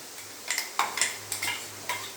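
A spoon scrapes and stirs a ground carrot mixture being sautéed in a pan, giving about half a dozen short clanking, scraping strokes over a faint hum, close and fairly crisp.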